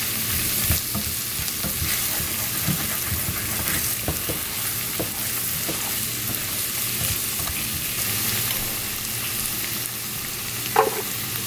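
Beef stroganoff gravy cooking in a pan on a stove over low heat, a soft, steady sizzle broken by occasional clicks and scrapes of stirring, close up with no voices.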